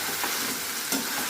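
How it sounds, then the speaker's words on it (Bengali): Chicken gravy thickened with cashew paste bubbles and sizzles in a pan, a steady close hiss with a couple of brief stirring scrapes. "দিয়ে চলো এটাকে আবার কিছুক্ষণের জন্য একটু ফুটতে দিচ্ছি"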